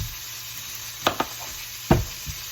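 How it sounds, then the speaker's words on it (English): A pork roast sears in a hot pan, giving a steady faint sizzle with a few sharp spits and pops, one louder burst near the end. "hold it up on both ends to make sure it's nice and seared all the way around"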